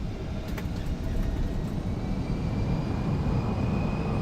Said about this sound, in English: There goes our touchdown and our reversers.